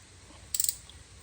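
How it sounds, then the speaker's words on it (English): Ratchet fitted with a swivel and extension turning a bolt on a 2007-2012 Acura RDX during AC compressor replacement, a quick burst of four or five crisp clicks, close and alone. "I got this special swivel right here with an extendo on there"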